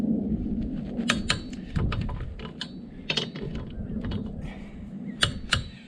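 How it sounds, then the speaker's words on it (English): A torque wrench tightening the lug nuts on a 2012 Honda Civic 1.8 during a tire change gives off sharp, irregular clicks and metallic creaks, close by and moderately loud, with no one talking. "So I'm going to go around and torque all of her lug nuts."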